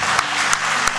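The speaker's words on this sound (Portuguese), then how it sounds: "Você pode dar uma salva de palmas para aquele que é poderoso para receber toda a honra, toda a glória e todo o louvor" A crowd applauds during a religious message, a steady wash of clapping with a few sharper claps standing out, loud and continuous.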